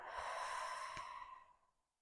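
A long, steady exhale through the mouth during a diaphragmatic breathing exercise, one continuous breathy whoosh that fades out gradually over about two seconds, close and alone.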